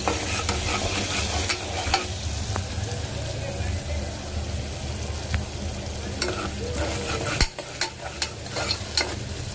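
Onion cooking in a hot pan for a spicy dal sizzles steadily and closely throughout, with occasional stirring clacks and sharper utensil knocks toward the end.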